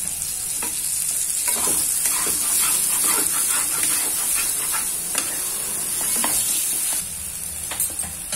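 Sambar wadi, the Nagpur-style stuffed pudachi wadi, sizzles steadily in hot oil in a pan under repeated scraping stir strokes, a close, continuous frying hiss with no talk.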